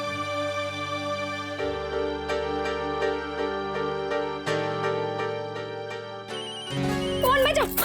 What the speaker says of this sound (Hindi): कोई जरूरी फोन हो।